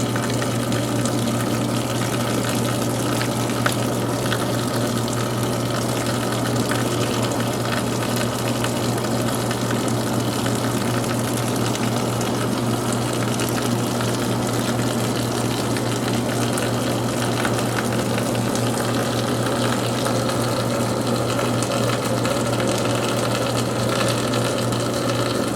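A garden sprinkler fed from a spigot shoots water high in a continuous rushing spray over a steady low mechanical hum, loud and unbroken throughout with no voices.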